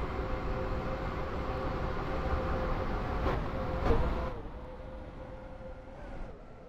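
A three-coach train in the Roblox game SCR runs along with a steady rumbling hum and a faint tonal whine, a couple of brief clunks mid-way before the noise settles lower.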